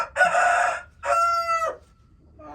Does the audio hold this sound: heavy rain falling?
no